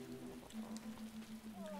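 Rain in the dinosaur-ranching video game Paleo Pines, a faint, soft patter of drops under a quiet, low steady hum and a few light game chimes.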